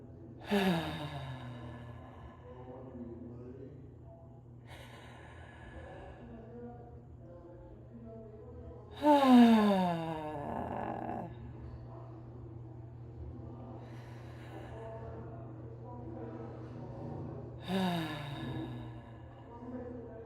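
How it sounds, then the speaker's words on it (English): Three slow, deep breaths taken in a calm, guided setting, each a long breathy inhale and exhale rising out of a quiet background hum, spaced several seconds apart and heard close with no talking. "I'm just going to inhale and exhale 3 times and just take a few breaths."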